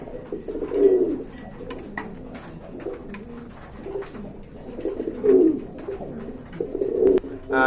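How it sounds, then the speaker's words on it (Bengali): Bombay pigeons coo repeatedly in low, throaty bursts, close and fairly loud, against a quiet background with a little faint chatter. "এইখানে রয়েছে আরেক জোড়া বোম্বাই কবুতর"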